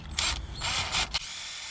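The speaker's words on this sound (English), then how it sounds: "so we're gonna drill it out" A power drill bores out a mounting hole for a relay on a third-generation Toyota Tacoma, in short bursts of high whirring over a low rumble, close and brief.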